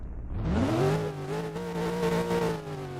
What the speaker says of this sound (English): pace car is being revved, if you can hear that